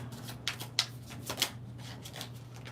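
A deck of tarot cards being shuffled nearby, with several crisp riffling bursts spaced irregularly over a low steady background hum, and no talking.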